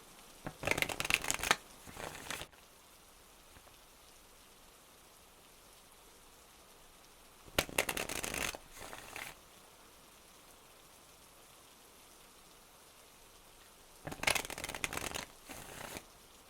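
Oracle cards being shuffled, three separate bursts of crisp riffling and flapping spaced several seconds apart, close and fairly loud against a quiet background with no speech.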